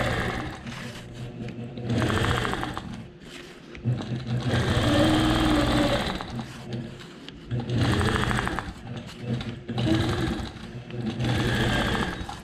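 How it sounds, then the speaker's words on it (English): A quilting machine stitches a memory quilt made from shirts, humming in repeated runs of fast, steady stitching that start and stop between short pauses. "now I'm going to stitch on the outside of this V"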